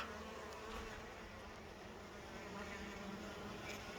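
Bees gathering propolis at a hive hum steadily with a faint, continuous buzz, close by and even in level throughout, with no voices.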